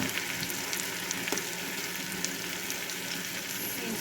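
Thick burger patties frying on medium-high heat, a steady dense sizzle held at even volume throughout with a few small pops and no talking.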